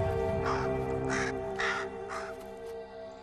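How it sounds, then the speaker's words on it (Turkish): A crow caws four times in a steady series of harsh calls, moderately near, calling to its partner in a wild Carpathian setting where wolves and shepherd dogs live; a constant low hum runs underneath. "Karga ortağına sesleniyor."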